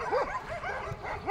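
Dogs on a Portuguese coastal walk between Santo André and Praia São Torpes bark and yip a few times at moderate distance over steady outdoor background noise.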